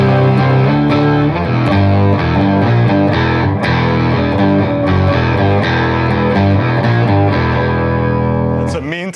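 Guitar runs through distortion with an octave-down and an octave-up effect blended in parallel, giving a thick, loud, sustained riff of chugging and ringing notes that plays continuously alone until it cuts off near the end.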